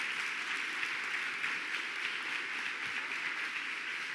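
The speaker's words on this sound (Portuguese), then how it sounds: "Você pode aplaudir ao Senhor?" A church congregation applauds during a service, producing a steady, even wash of many hands clapping at moderate distance with no distinct individual claps or voices standing out.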